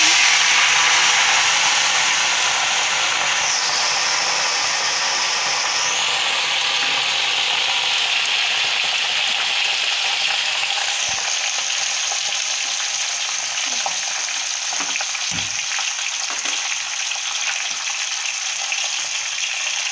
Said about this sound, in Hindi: हम इसमें मीठी नीम तल रहे हैं,